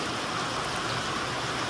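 Steady rain falls continuously, a dense even patter that stays constant throughout with no voices.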